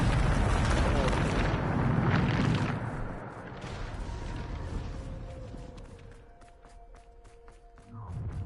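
A Bombarda spell exploding in Hogwarts Legacy, a loud, rumbling blast that fades over a few seconds, followed by quieter crackling and a faint tonal game effect.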